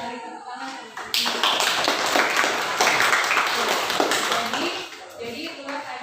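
Classroom audience clapping hands at a school lesson, a dense burst of applause building suddenly and holding for several seconds before tapering, with faint voices around it.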